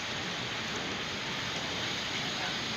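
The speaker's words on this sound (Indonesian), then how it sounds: "Tapi ini karena lagi hujan ya." Steady, dense rain pours down at Manggarai train station, a constant hiss of drops on surfaces with no breaks.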